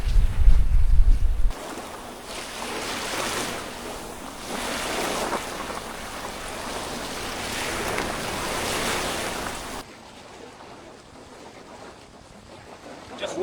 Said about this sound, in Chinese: 这个波浪的声音，白噪音特别好听，哗啦哗啦哗啦。